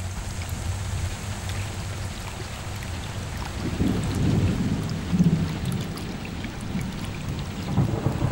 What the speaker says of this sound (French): des trombes d'eau vont s'abattre pendant des semaines dans cette région équatoriale de l'Afrique